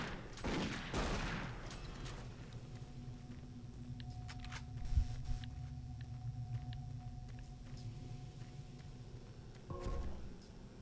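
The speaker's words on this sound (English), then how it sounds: "who's shooting at me?" Gunfire in the video game Doom 3, a burst of shots early on followed by a quieter stretch of rumbling game ambience with a few scattered impacts and another brief burst near the end.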